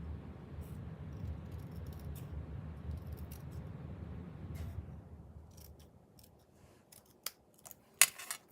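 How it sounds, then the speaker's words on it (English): Scissors snipping apart printed paper words during a papercraft project, a few faint, sparse clicks and snips toward the end after a low background hum fades. "But I want to cut those words apart."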